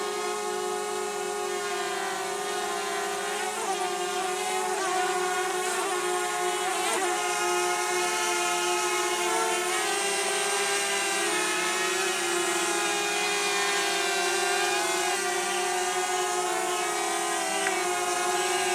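A DJI Mavic Mini drone with a propeller spinning too fast, emitting a steady, loud high-pitched whine with layered tonal harmonics that waver slightly in pitch throughout, close by and unbroken.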